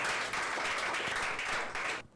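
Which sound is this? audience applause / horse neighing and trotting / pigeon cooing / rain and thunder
audience applause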